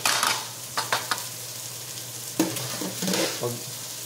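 Potatoes are being fried separately in a pan for Filipino pork adobo, giving a close, crackling sizzle. Several bursts of stirring and scraping come and go over a few seconds, with no talking.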